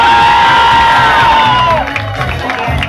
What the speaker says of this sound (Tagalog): Isang malakas pa, 1, 2, 3, palakpakan!